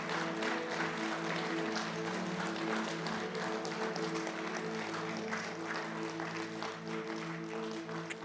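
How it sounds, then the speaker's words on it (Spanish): A church congregation claps together during a Sunday service, a dense, sustained round of applause over a steady musical drone. "vamos a levantar un aplauso al Señor todos juntos como iglesia."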